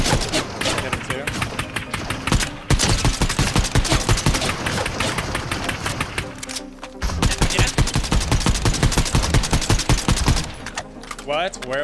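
Bursts of rapid automatic gunfire in a Fortnite Duos match crackle loud and close in long rattling runs with short gaps between them, while players talk over the shooting.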